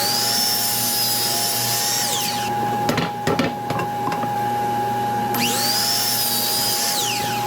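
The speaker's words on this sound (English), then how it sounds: "we're going to take a 2x4 and we're going to cut the same 5-degree miter angle on one end" A miter saw cuts a 5-degree angle in a 2x4. The motor runs up to a loud whine, bites through the wood with rough cutting noise, then spins up again.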